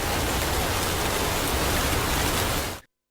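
Steady rain pouring down in a city during winter weather, a dense even hiss that holds constant and then cuts off abruptly near the end, with no voices.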